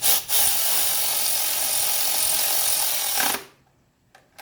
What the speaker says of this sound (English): let me snug these bolts down